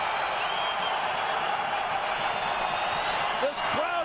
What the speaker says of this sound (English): This crowd going wild.